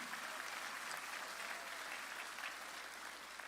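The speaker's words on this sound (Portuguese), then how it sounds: "Glória a Deus, pode aplaudir." Applause from a church congregation at a Christian community service fills the space as a steady, dense wash of many hands clapping, even in level and fairly distant, with no voices standing out.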